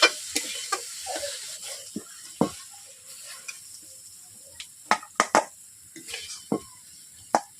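Vegetables for a vegetable chop filling stirred and fried in a pan, a soft steady sizzle broken by sharp, irregular spatula scrapes and knocks, close and fairly quiet.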